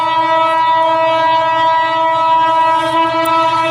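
A passing Dhaka-bound train near Jagati station in Kushtia, Bangladesh sounds a loud, sustained horn that blares steadily and close by, its rich, layered tone holding without a break.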